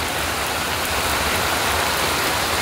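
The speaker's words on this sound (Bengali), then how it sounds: "এই দেখো ফ্রেন্ড, বাইরে কত বৃষ্টি হচ্ছে।" A heavy downpour outside makes a loud, steady wash of rain with no pauses and no voices.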